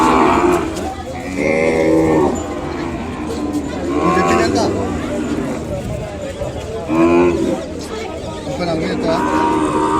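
Ongole cattle at a calf market low in deep, drawn-out moos, several calls overlapping and repeating near the listener, while people talk and chatter throughout.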